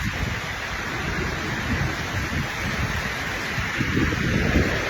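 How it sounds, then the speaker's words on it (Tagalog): Heavy rain pours down in a forest park in a dense, loud, continuous roar, steady throughout with no pauses. "Grabe, lakas ng ulan."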